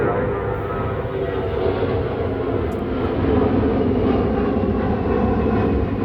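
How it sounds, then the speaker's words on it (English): A loud, continuous roar of a heavy four-engine military plane passing overhead, droning steadily throughout. "It is a fat pig of a plane with 4 big engines."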